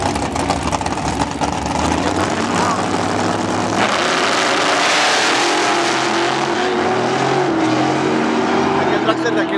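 Dragster race cars launching at a drag strip, a loud sustained engine roar that swells and shifts pitch as the run builds, with a commentator speaking over the noise.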